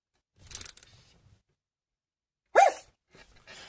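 A small cartoon pet dog gives a brief scuffling sound, then after a pause one sharp, close yip-like bark followed by faint rustles.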